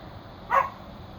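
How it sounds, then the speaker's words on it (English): A single short, sharp dog bark rings out indoors against quiet room noise, close and clear. "She barks at everything."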